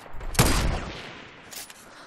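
A single sharp gunshot in the video game Fortnite cracks out near the start, followed by a decaying echo and a fainter second report about a second later.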